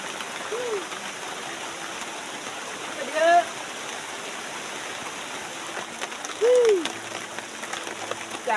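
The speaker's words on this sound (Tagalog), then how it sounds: "Sabi ng uwan oh." Heavy rain falling with water running off, a steady hiss and trickle throughout, with a few brief bird-like chirps or squeaks rising above it.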